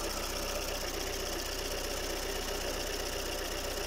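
A modified 2-liter Peugeot 504 engine idles in the morning with a steady, even, close mechanical rumble and faint rhythmic knocking that holds constant throughout, with no voices.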